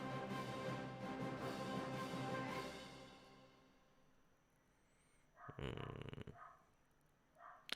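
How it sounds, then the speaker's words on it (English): A dog barks outdoors, faint and distant, in a short cluster of yaps after a sustained droning tone fades out. "Sorry about that annoying dog outside."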